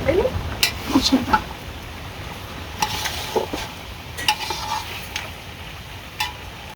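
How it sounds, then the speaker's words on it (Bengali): A spoon scrapes and clinks against a cooking pan as spice paste is stirred in, brief metallic taps over a low sizzle, close by, with a voice talking at times. "কষাই রাখা মশলাটা দিয়ে দেব এবার আমি নাড়িয়ে চাড়িয়ে মিশে নেব ভালো করে"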